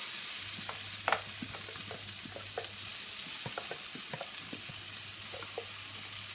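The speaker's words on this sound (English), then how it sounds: "we're going to fry those off until they are nicely brown" Onion and garlic sizzle in a large frying pan sprayed with low-calorie cooking spray, a soft steady fry with occasional light stirring clicks and scrapes, close and quiet with no voices.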